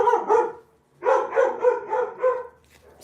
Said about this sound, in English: It was the dogs.